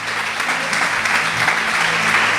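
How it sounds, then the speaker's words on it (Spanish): A church congregation claps together in sustained, dense applause, steady and fairly loud throughout the short burst. "Denle un aplauso a ese Cristo que nos llamamos,"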